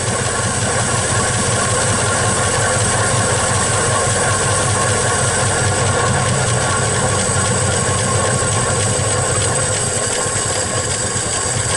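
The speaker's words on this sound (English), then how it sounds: "Look at how low that's idling." A 1961 Studebaker Champ truck engine idles very low and steady, a loud, close, continuous rumble with an even vibration and no talking.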